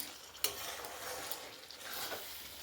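Jackfruit curry with kasuri methi being stirred in a hot kadai, a soft steady sizzle with a few light scrapes of the spoon against the pan.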